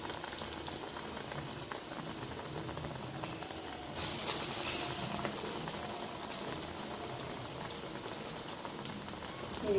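Corn fritters (garelu) sizzling in hot oil in a home kitchen, a steady soft crackle and bubbling, quiet and continuous, briefly swelling louder partway through.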